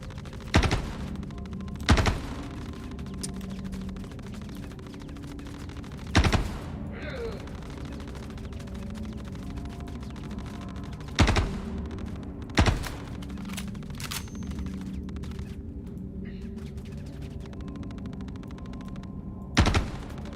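Gunfire in the Star Citizen video game after a fire-mode switch: several sharp, separate shots, some in quick pairs, spaced irregularly over a steady background hum of game ambience.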